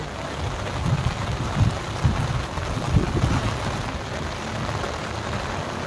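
Heavy rain at Baga Beach, Goa, in September: a steady, dense hiss of downpour with scattered low thumps, continuous and fairly loud throughout with no talking.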